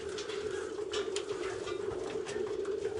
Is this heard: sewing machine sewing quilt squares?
no